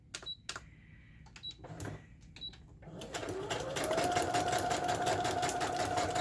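A few short bursts of quiet stitching, then a sewing machine runs continuously sewing a straight stitch through coffee-dyed parchment paper, its rapid needle rattle climbing to a steady whirring pace.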